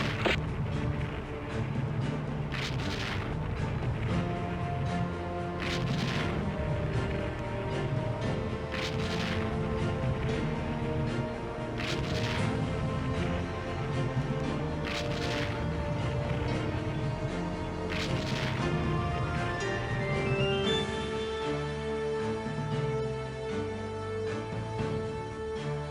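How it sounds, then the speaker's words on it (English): Naval 5-inch guns on the warship Gettysburg fire in the Fleet Command game, with repeated heavy blasts at intervals of about three seconds over a steady, dense battle soundscape. "Gettysburg engages with her 5-inch guns"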